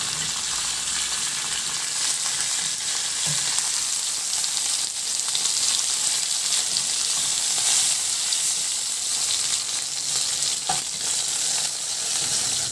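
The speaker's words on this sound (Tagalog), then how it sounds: "ipan-fry ko na rin yung pata na binabad natin" Marinated pork leg pan-frying in oil, a loud, steady, hissing sizzle that holds for several seconds with a couple of faint knocks, close up and with no talking.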